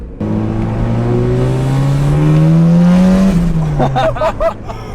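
A tuned car with over 100 added horsepower accelerating hard, its engine note rising loud and close through a single sustained pull before easing off. Excited voices follow at the end.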